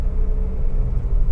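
A vehicle speeds past a horse on a very quiet country road: a steady low rumble of engine and tyres, loud and close throughout the short moment, with no voices.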